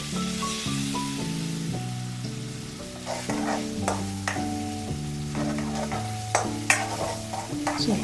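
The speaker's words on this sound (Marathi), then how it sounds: "आता मी टोमॅटो प्युरी ॲड करते." Two-tomato puree hitting a hot pan of spices like cumin and star anise for chicken korma, sizzling steadily while a spoon scrapes and stirs, with a few sharp clinks near the end; close and moderately quiet, with background music and no talking.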